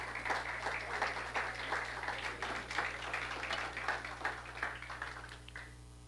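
Church congregation applauding during a Sunday morning service, steady moderate clapping from many hands that thins out toward the end, heard alone without talk.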